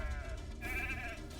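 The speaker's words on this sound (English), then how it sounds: "More sheep." A single sheep bleat from a video game, a short wavering cry heard clearly over a low background rumble.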